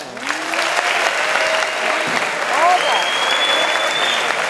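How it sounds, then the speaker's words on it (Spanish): Audience applause at the closing award ceremony of a horror film week, greeting a best Spanish short film audience prize; steady dense clapping fills the room throughout, with a voice heard over it. "Pido un fuerte aplauso para Leyenda,"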